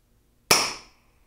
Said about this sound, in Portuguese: Mais um disparo aqui e agora o caninho de baixo